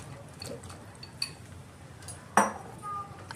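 Prawns tip into boiling gravy in a pan for chingri malaikari. Light clinks of a utensil come first, then a sudden wet clatter and splash as they land, followed by a soft bubbling sizzle.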